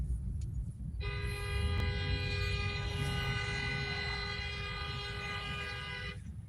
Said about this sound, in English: Boy, these people going crazy, honking at each other.